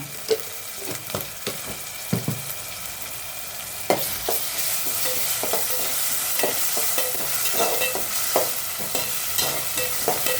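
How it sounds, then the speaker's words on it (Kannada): Ginger garlic paste frying in a pan for egg masala, a close steady sizzle broken by sharp scraping clicks of a spoon stirring at irregular intervals, no talking. "ಇದಕ್ಕೆ ಇವಾಗ 1 ಸ್ಪೂನು ಶುಂಠಿ ಬೆಳ್ಳುಳ್ಳಿ ಪೇಸ್ಟ್ ಹಾಕೋಣ."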